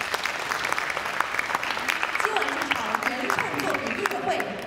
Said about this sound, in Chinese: 让我们以热烈的掌声向曲作者和演奏者表示衷心的感谢